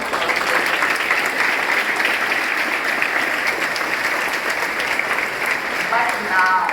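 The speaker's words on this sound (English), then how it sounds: "So congratulations to all of you, and a huge round of applause." School students applaud loudly at a Green School Programme event, sustained dense clapping across the whole stretch with some voices mixed in near the end.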